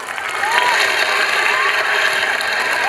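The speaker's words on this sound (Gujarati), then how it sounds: "હજી એકવાર જોરદાર તાળીઓ પાડો." Loud, sustained applause and cheering from a crowd at a school annual function, a steady wash of clapping that swells in the first half-second and holds.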